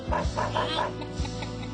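A chicken in the Dog's Life video game gives a quick run of rhythmic clucks, then a few softer clucks follow, close and clear with game sounds underneath.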